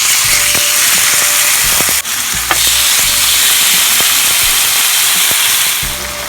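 Flanken-style marinated short ribs searing in a hot pan, giving a loud, continuous close-up sizzle with a few sharp crackles and pops.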